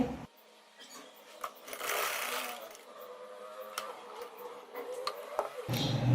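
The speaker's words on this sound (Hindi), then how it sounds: "अब इसी तरह मैं इधर से सिलाई लगा लूंगी।" A sewing machine stitches a fabric face mask, with a close mechanical whirr that starts and stops, broken by small ticks and handling noises.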